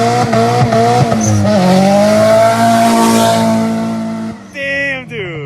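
A Nissan 240SX is driven hard, its engine droning loud and close with rising revs and a tire squeal, then dropping off abruptly at the end to a brief higher-pitched whine.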